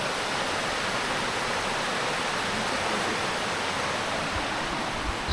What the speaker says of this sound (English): And the sound of running water down below.